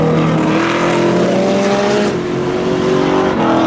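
A Mitsubishi drag racing car launches down the strip at a Memorial Day spectator drag event, its engine roaring loud and close with rising, sustained revs that dip briefly before surging again.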